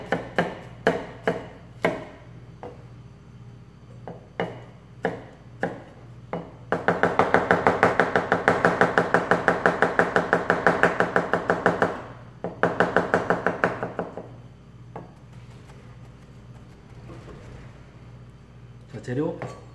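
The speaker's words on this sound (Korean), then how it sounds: "양념에 들어가는 재료 마늘은 다져 주시고요" Garlic minced with a knife on a cutting board for a seasoning mix: a few scattered taps, then a long run of rapid, loud, even chops, a short pause and another burst, with someone speaking Korean throughout.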